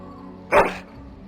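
A single short dog bark from the video game Dragon Age: Origins, loud and close, standing out briefly over a quiet ambient background.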